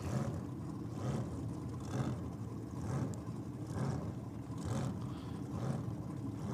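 Ford Escort van drag racer with a 406 cubic inch small block, idling and blipping at the drag strip, a low rumbling engine pulsing roughly once a second, fairly distant and steady, no talk.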